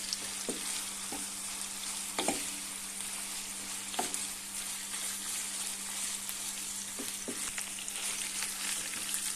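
Shaved döner meat stirred with butter in a hot pan makes a steady sizzle, broken by sharp scrapes and clicks of the spoon against the pan every second or two.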